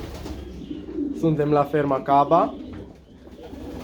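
Pigeons coo in a farm loft in a low, throaty rhythm, heard close under a man's speech.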